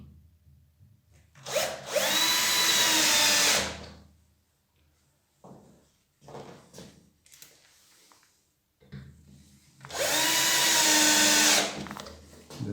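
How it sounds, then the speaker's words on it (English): A battery screwdriver with a Phillips bit drives screws to fix a wooden box to a table. Two long, loud whirring bursts are separated by quieter handling knocks and scrapes, with no talking. "With the battery screwdriver and Phillips key"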